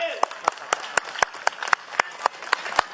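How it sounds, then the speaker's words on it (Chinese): Applause at a Lunar New Year's Day temple gathering greets a competitive tai chi performance, heard as sharp, evenly spaced claps in a steady rhythm over a low crowd hum. "大家用热烈掌声来鼓励一下"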